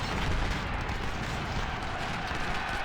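An artillery barrage fires in a strategy video game, a dense, continuous roll of overlapping booms and rumbling blasts holding a steady loudness throughout with no talk.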